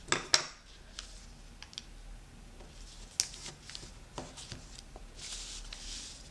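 Paper being creased and folded into a Christmas star, a scattering of soft crisp crinkles, scrapes and light taps, quiet and close with brief sharper clicks.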